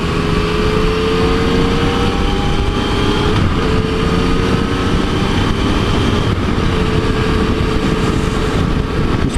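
A Yamaha FJ-09 motorcycle engine drones steadily while riding, a loud continuous hum under heavy wind rush, with engine tones dropping and resettling as gears shift at steady throttle.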